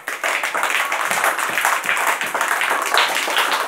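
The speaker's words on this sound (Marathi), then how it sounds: "आता सगळ्यांनी एकदा टाळ्या वाजवा बरं जागेवर" First-standard schoolchildren clap together from their seats in a classroom, a dense burst of quick, uneven hand claps lasting a few seconds, loud and close.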